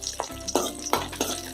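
Cashew nuts frying in a pan for ash gourd payasam give a soft crackling sizzle, broken by a few scraping stirs, close by with no talk.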